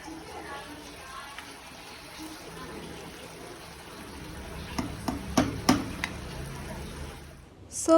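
Veg paneer keema, dhaba style, cooking in a pan with a soft steady sizzle and occasional scraping stirs, a few sharper clinks near the end and a louder clatter as it closes.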